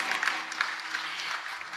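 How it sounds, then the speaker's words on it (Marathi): An audience at a comedy kirtan claps together, a steady patter of many hands at moderate distance for a couple of seconds, with faint voices underneath. "तुम्ही टाळ्या वाजवता"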